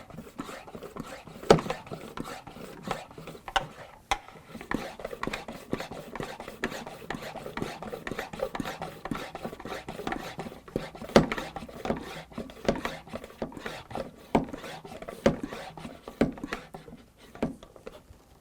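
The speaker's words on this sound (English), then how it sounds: "I'm going to start pumping the hand pump." Hand pump being worked on a Fuser500 micro casting system wax injector, giving a steady run of close, scratchy rasping strokes with sharp clicks, repeated rhythmically throughout with no talking.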